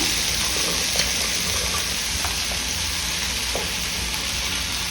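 Cucumber pieces frying in a pan with onions and dried red chilies, a steady, close hiss of sizzling oil that runs unbroken, with a few faint clinks of a spoon.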